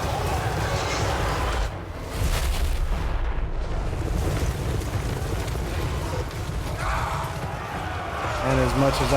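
Missile batteries firing in the video game Total War: Warhammer, a dense barrage of booming launches and impacts over a constant roar of battle, loud and continuous throughout.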